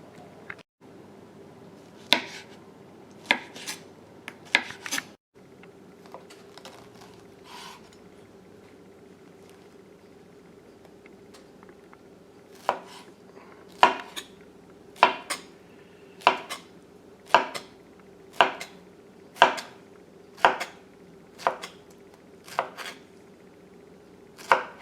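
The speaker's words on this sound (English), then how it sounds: "so we've got our pineapple all diced up" A sharp knife dices pineapple on a cutting board in crisp, evenly spaced chops that speed into a steady rhythm, close and clear, with a few scattered knocks at first and a faint background hum.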